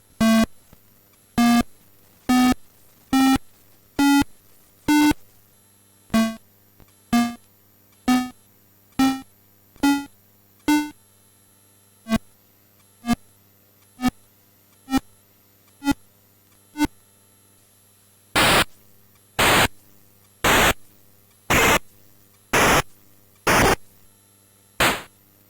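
Chiptune-style tones from a YM2203 chip sound card beep in a regular pulse, shifting pitch and length, then give way to bursts of harsh white noise from its noise generator in the same rhythm.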